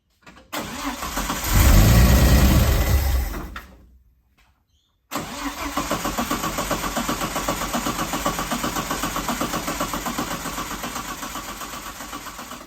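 A Ford Cortina TE engine cranks with a loud, churning starter burst that fades out. After a short silence, a second long stretch of steady, rhythmic cranking follows as it tries to fire, with no one talking.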